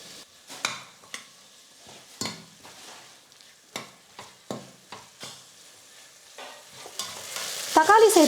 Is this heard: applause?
no